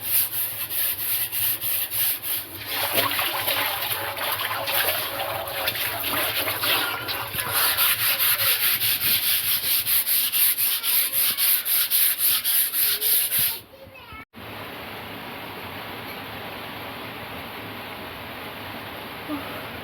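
Rough, rhythmic scrubbing of algae off the wall of a water tank for a long stretch, then it stops abruptly and a quieter steady hiss continues.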